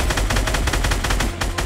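Rapid bursts of gunfire from the video game Fortnite, loud and dense, with sharp shots repeating in quick succession throughout and no voices over them.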